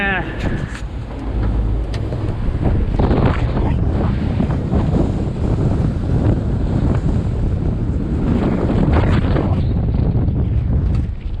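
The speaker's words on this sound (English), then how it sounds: "There is the wind!" Strong, steady wind roars across the microphone while solo sailing on a winter sea with the genoa up and the boat heeling hard; loud, continuous gusting buffet with water rush underneath.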